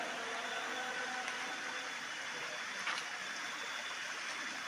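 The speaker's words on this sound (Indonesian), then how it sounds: "Nah, ini pertigaan sungai." River water rushing steadily at a three-way junction of rural streams, a continuous broadband wash that stays loud and even throughout, with no voices.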